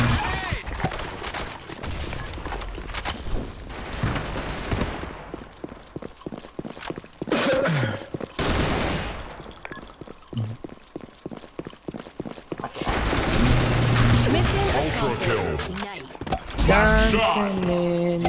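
Gunfire rings out in a shooter video game: rapid bursts of shots, with dense stretches of repeated cracks and some louder blasts, heard alongside a voice speaking over the action.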